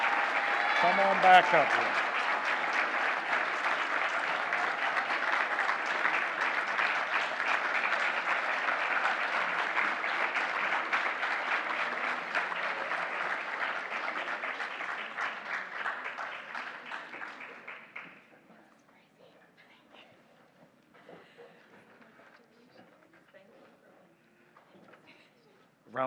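Sustained applause fills a school awards ceremony for a primary school teacher receiving an honour, steady and dense for about eighteen seconds before fading out; a voice then speaks briefly over a quiet room.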